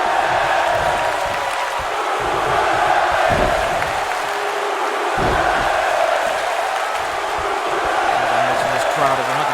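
A roaring arena crowd cheers steadily in the WWE 2K wrestling video game at a WrestleMania event in Atlanta, with a continuous dense wall of noise and commentary voices layered over it.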